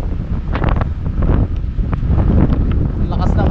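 Strong wind buffets the microphone outdoors at Mangilid Tindaan Historical Nature Park near an M4 Sherman tank, a loud, continuous low rumbling roar that fills the whole stretch.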